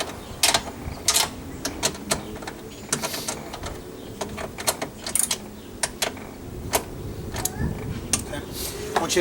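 Bolts on a 2002-2006 Honda CR-V power window regulator are tightened with a ratchet, giving rapid bursts of clicking and clattering in uneven spurts close up, with a voice talking in the background.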